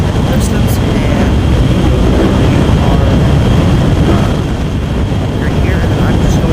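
In a flight game, an F-14 jet roars at full throttle after launch: a dense, loud, constant rushing blast with a thin high whine on top.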